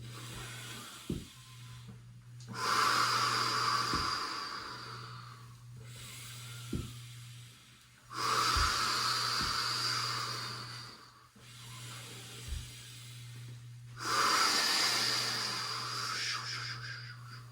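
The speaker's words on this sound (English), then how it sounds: "Breathing deeply." Deep breathing during an all-levels mountain core yoga exercise: slow, hissing inhales and exhales in three long cycles, close and soft, with a few small thumps between breaths.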